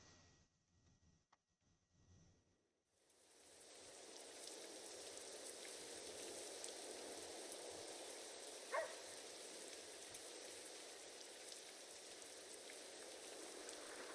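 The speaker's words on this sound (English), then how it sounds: "It's just a bit of rain." Rain falls in the American Truck Simulator video game, starting after a quiet moment and settling into a steady, faint hiss of drops with occasional soft ticks.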